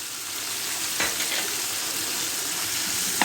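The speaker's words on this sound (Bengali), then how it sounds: "সবগুলো উপকরণ একসঙ্গে নেড়েচেড়ে মিশিয়ে নিচ্ছি।" Onion, garlic and other ingredients are stirred in a frying pan, giving a loud, continuous sizzle with a few scraping stirs of the spoon, close and without speech.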